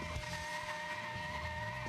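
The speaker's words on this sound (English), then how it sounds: "The tire screeching sound effect is definitely not appropriate for a character that moves as slow as a slug in an iceberg" Tire screeching effect from the video game Sonic Adventure DX, a steady loud skidding squeal that runs continuously through the moment with no talk over it.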